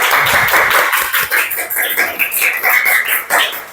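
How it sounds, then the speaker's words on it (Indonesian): A classroom of students claps together in a lesson, a choppy burst of hand claps that stays loud but uneven, thinning and surging in irregular waves for a few seconds. "Tepuk tangan dulu semuanya untuk kita untuk hari ini."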